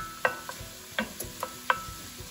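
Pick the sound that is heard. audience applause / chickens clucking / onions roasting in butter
onions roasting in butter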